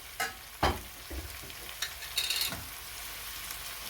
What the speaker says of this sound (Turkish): karıştırayım son bir kez